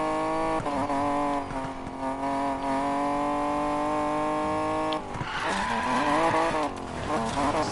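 A car drifts in the Need for Speed Payback video game, its engine holding a steady, loud drone while tires squeal, then revs surge and screech harder toward the end, with no voices over it.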